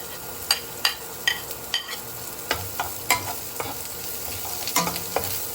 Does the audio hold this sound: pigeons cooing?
no